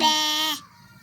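A voice imitates a goat with one short, loud, wavering bleat that cuts off abruptly, followed by quiet room tone.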